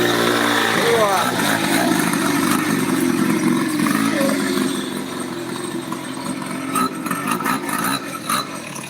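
A small motorcycle engine buzzes and revs nearby beneath a noisy crowd at an ondel-ondel and barongsai street performance, with excited voices calling out throughout.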